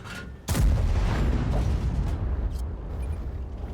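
A German 12.8cm tank destroyer gun fires once in World of Tanks, a sudden heavy boom with a long rumbling tail. A fainter second report follows over continuing battle noise.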